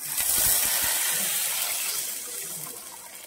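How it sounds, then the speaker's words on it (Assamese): Water pours steadily into a curry pot of mango-sour fish curry, a continuous close gush that eases slightly toward the end, with no voices. "এয়া চাওক, মই এতিয়া পানী দি দিম।"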